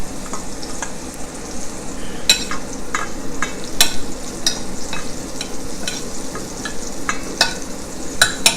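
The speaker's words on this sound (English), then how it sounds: "Don't make the batch too large for what you're frying." Venison sizzling and frying in a pan for hunters stew, a steady crackling hiss with sharp pops and occasional stirring scrapes, close and continuous without talk.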